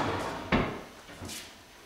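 Pull-out kitchen drawers in a lit house kitchen slide and bump shut, giving a single firm close with a softer follow-up knock, heard nearby against a quiet room.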